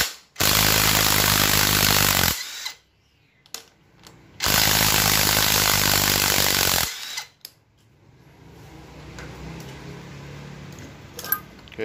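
A power tool loosening 14 mm bolts on a Suzuki Grand Vitara automatic transmission, two long, loud, close whirring bursts of about two seconds each, separated by short clicks, then quieter workshop noise with light tapping.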